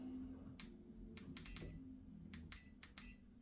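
Two pairs of sharp button presses on a Hibrew H4C portable espresso machine, crisp close clicks standing out against a low steady hum, with a few more clicks following.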